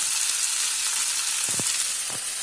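Tomatoes, sambar leaves and a piece of ginger frying in a pan, giving a dense, steady hiss of sizzling oil with a couple of brief, dull stirring knocks partway through.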